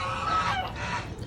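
Domestic ducks and geese in a backyard pen give a brief burst of nasal honking and clucking calls, moderately close and heard without talk.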